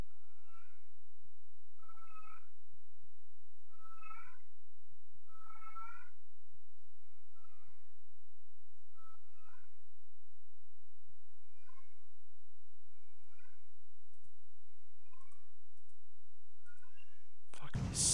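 A cat meows in the PS2 video game Ratchet & Clank, about a dozen short, near meows repeating at a steady rhythm every second or two, ending in a sudden loud burst.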